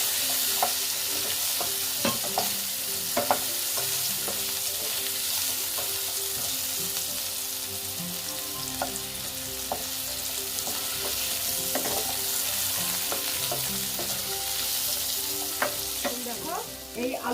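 Potatoes coated with turmeric fry in a pan with a steady, close sizzle, broken by frequent scraping and clinking stir strokes from a spatula throughout.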